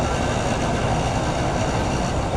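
A Bangladesh local train rolls steadily along the tracks, with a dense, continuous rumble and rattle of the carriages close by and no talk over it.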